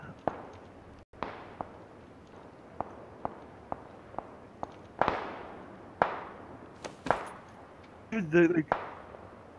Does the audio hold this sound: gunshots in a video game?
yes